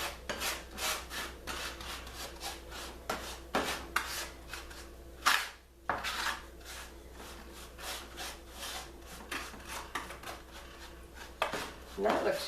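Butter being worked and rubbed across the bottom of a cake pan for a pineapple upside-down cake: repeated scraping, rubbing strokes in uneven bursts, close and moderately loud, with no voices.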